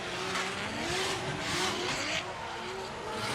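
A pro drift car at a competition battle holds a long, loud skid, its engine droning steadily under sustained tyre squeal and roar throughout, with no voices.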